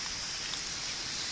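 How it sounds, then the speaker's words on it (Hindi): Heavy rain pouring down during a storm on a hillside road, a steady loud dense hiss of falling water throughout with no pauses. "कुछ इतनी तेज बारिश है"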